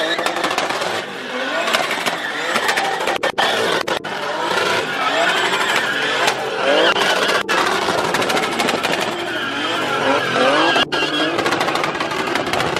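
BMW F80 M3 with a manual gearbox, engine heard from inside during a ride, a busy, varying drone of revs with clicks and road noise throughout while people talk over it.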